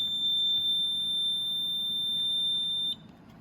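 A temperature alarm buzzer on a sensor test setup emits a steady, piercing high tone that holds for about three seconds, then cuts off abruptly, leaving a low hum.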